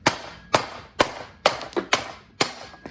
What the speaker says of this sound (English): Oh, see, the bushing's coming out.